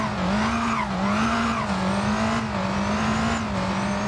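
A Lamborghini Temerario in the Driving Empire video game runs with a steady droning engine tone that swells and dips slightly as the revs shift. A light tire-squeal texture sits faintly on top, and no one speaks.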